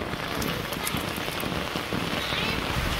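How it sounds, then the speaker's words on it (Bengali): Steady rain pours down in a Bangladeshi village, a dense, close hiss of drops striking surfaces that continues unbroken for the whole stretch. "এই বৃষ্টি আর যাবে না"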